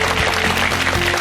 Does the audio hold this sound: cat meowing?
no